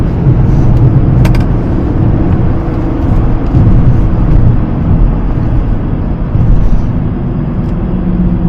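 Mercedes-Maybach GLS 600 SUV on the move, a steady, loud low road and engine rumble with tyre noise running throughout, no voices.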